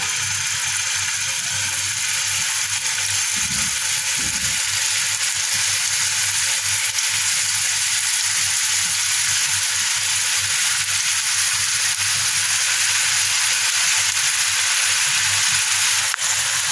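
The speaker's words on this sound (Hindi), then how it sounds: "उसमें हमने ऑयल जो है पहले से गर्म कर लिया हुआ है। अब हम इसमें गोला कबाब शामिल कर देते हैं।" Gola kababs frying in hot oil in a frying pan over a low flame, a loud, steady, close sizzle that runs unbroken throughout, with a couple of brief low knocks early on and no talking.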